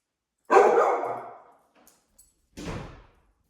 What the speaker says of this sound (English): when she barks, I leave this space